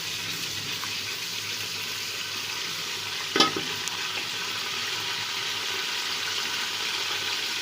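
Whole spices, cinnamon, black cardamom and peppercorns, crackle and sizzle in hot oil with a steady frying hiss and one louder pop midway, no talk.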